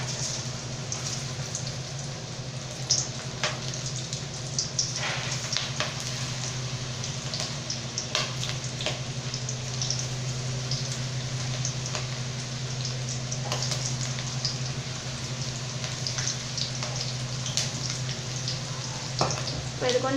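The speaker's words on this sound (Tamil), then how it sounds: "இப்போ இதில் போட்டு பொரிச்சு எடுத்துக்கலாங்க." Okra kurkure pieces deep-frying in a kadai of hot oil give a steady, dense bubbling sizzle with scattered crackles, continuous and fairly close throughout, with no talking.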